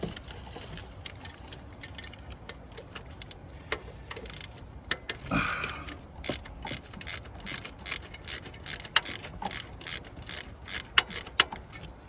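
A ratchet with a 12mm socket works on the alternator bolts of a 2.4 liter Toyota Camry, giving rapid, close clicking in bursts of ticks, faint at first and then growing steadier and louder.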